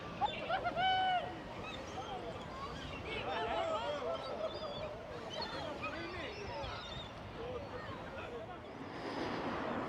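Seagulls being fed on Blackpool beach give scattered, faint cries and squawks at some distance over a steady outdoor background, with people talking nearby.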